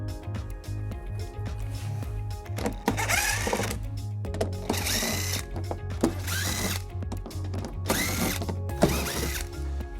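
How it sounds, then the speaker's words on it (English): Screws being removed from the trim of a 2017 Toyota Sienna during a trailer hitch installation, with close bursts of a whirring power driver and mechanical ratcheting rattles separated by brief pauses. "we're gonna remove all of these screws, all 5 of them on the edge"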